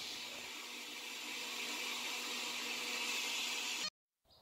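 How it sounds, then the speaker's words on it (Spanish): A kitchen blender whirs steadily at high speed while blending spaghetti sauce ingredients, a loud constant motor whine that holds for about four seconds and then cuts off abruptly. "Y vamos a licuar todo perfectamente."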